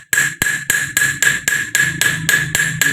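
Sharp metallic hammer blows strike a rivet on the tube of a variation shock absorber being rebuilt for rebound, about ten evenly spaced ringing hits that sound close and loud, with no talking.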